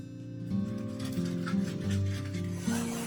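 Seeds pressed into a rye sourdough loaf with a dough scraper, giving soft, close rubbing and scraping strokes over a faint background hum, with no talking.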